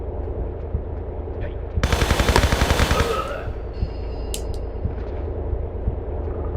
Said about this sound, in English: I'm going to actually take out my M16 and lay waste to some guys.